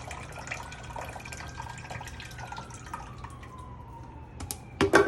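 Evaporated and condensed milk pours from a can into a pot for Southern baked mac and cheese, a steady soft liquid stream with dripping and a few louder splashes at the end, close and without voices.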